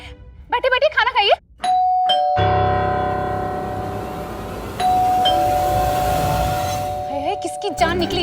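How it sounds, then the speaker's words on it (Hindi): A house doorbell rings twice, each time a long sustained electronic tone lasting a few seconds, loud and close, with voices talking just before and just after. "जो कौशलपुर के उभरते हुए नेताओं की घर की घंटी बजाए जा रहा है।"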